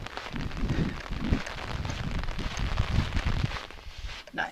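Steady rain falling outdoors in Alice Springs, a dense close patter and hiss of drops on surfaces that holds at an even level throughout.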